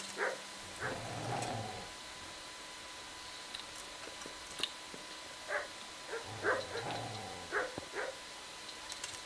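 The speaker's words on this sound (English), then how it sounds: "Your barking will not accomplish anything, dogs." Dogs bark in the medieval open-world game Kingdom Come: Deliverance, with scattered faint barks heard at a distance over a steady background hiss, some grouped in short bursts.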